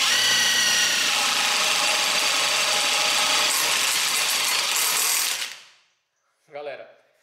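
An impact drill bores a hole with a drill bit, a loud, close, continuous rattling grind that runs for several seconds and then winds down, followed by a brief voice.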